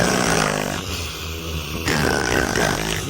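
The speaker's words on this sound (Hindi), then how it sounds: "हां ये सब भाई खर्राटा लियती बाटी" Several people snoring together in a comic Awadhi-language sketch, a dense, continuous low rumbling of breaths filling the clip at close range with no talk.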